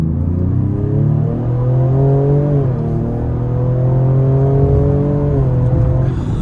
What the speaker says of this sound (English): When you give it throttle, it does sound very aggressive, very sporty, but also it has that nice tuned twin turbo sound to it.